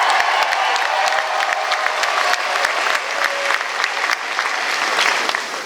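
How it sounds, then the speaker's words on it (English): Loud crowd applause with cheering and occasional whoops at a university Final Four pep rally, dense continuous clapping close and energetic throughout, tapering slightly at the end. "so please give them a round of applause."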